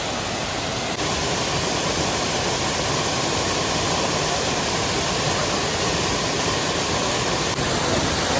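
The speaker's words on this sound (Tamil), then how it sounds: "ஸோ கைஸ் இதுதான் தேர்ட் ஃபால்ஸ்." The third falls at Kodaikanal, a hill-station waterfall, roars as a loud, constant broadband rush of falling water, close by and steady throughout with no voices.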